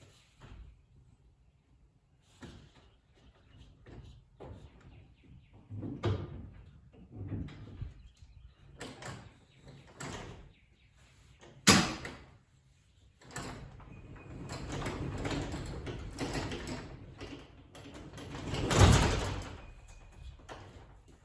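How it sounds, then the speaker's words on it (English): A newly installed garage door in a barndominium build is raised and then let drop shut, giving a rumbling run of rolling and rattling that ends in one loud, close slam near the end. "The door shouldn't slam shut when you drop it."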